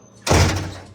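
A door slides shut with a sudden loud rush and thump that fades quickly, close by in a quiet room.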